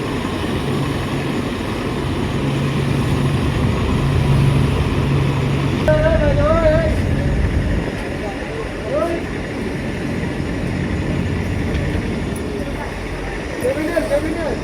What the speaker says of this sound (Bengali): ড্রেজারটা কিন্তু একদম লঞ্চের সামনে দিয়ে চলে যাচ্ছে।